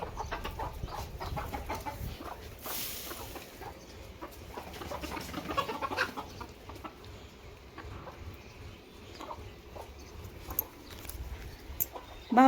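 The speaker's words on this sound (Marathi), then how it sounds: "आज कोंबडे बघा ना भूक लागली तर वट्यावर आलेत" Hens cluck softly and intermittently nearby in a village yard amid faint background noise, with occasional scratching and rustling.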